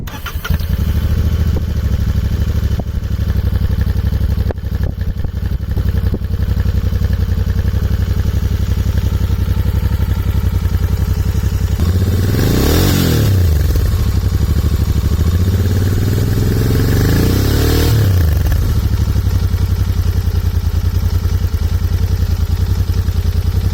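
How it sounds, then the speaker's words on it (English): Royal Enfield Interceptor 650 motorcycle revved through its exhaust at around 4000 to 5000 rpm, two loud swelling rev blips rising and falling over a steady close idle, with no talking. "That's how sweet the exhaust note is about this bike."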